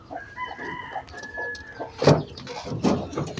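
Pigeons call from nearby, a couple of loud bursts of clucking and crowing-like calls over a soft, busy background.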